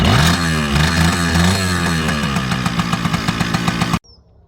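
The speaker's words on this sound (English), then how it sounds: "Kawasaki KE100, just kick it." A vintage Kawasaki KE100 two-stroke motorcycle runs after a kick start, a loud, close, buzzy engine that revs up then settles into a rapid pulsing idle before cutting off suddenly.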